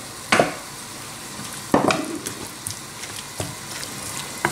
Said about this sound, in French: Là je rajoute l'œuf battu